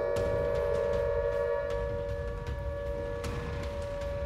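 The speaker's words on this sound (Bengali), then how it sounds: "এখন সাইরেন বাজে জম্মু শহরে" Air raid siren wailing across Jammu city around midday, a sustained steady tone held over a low rumbling background with faint scattered noises, continuous and fairly prominent.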